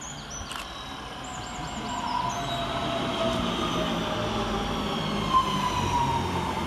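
A Northern Class 323 electric train, unit 323230, arriving at Burnage station, with a steady rising rumble and electric whine as it pulls in, plus faint squeals, no voices.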